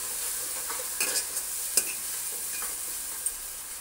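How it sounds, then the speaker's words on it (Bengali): Ginger, garlic and dried chili paste frying in a pot as masala for chicken, with steady close sizzling and a few sharp scraping clicks from stirring, no voices. "আদা রসুন আর শুকনো লঙ্কা বাটাটা আমি দিয়ে দেবো, দিয়ে মশলাটা কষে নেব।"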